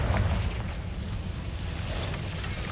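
A Confringo spell detonates in Hogwarts Legacy, a deep booming blast that fades into a low rumbling tail. No one speaks.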